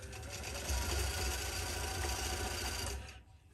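A longarm quilting machine stitches a quilt block with a fast, steady mechanical whirr that runs for about three seconds and then stops, close up with no talking.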